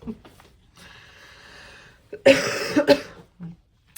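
A woman gives a few harsh, raspy coughs close by, one breathy burst followed by two stronger ones, then a short throaty catch.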